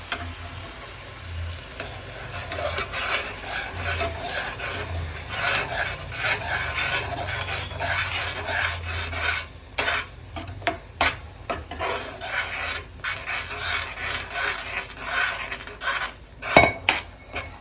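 A utensil stirs and scrapes ground grapes and chillies in a pan over a slow flame, with irregular metallic scraping and clinking strokes, close and fairly quiet, alone without talk.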